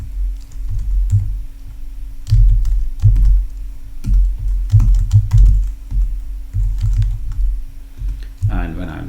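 Keys clatter in bursts as someone types a password on a computer keyboard, close and fairly loud over a steady low hum, with a brief louder noise at the very end.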